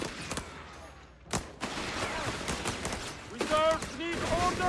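Gunfire volleys from Italian infantry in the strategy game Company of Heroes 3, dense overlapping rifle and machine-gun bursts with sharp cracks amid battle noise, loud and continuous, with game voice lines mixed in.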